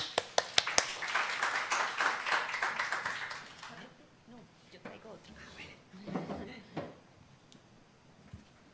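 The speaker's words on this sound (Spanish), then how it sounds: "Recibamos por favor con un aplauso a Carlos Salim." Audience clapping at a university lecture event, a few sharp claps followed by a brief patter of applause lasting a few seconds, then quieter room sounds and a voice.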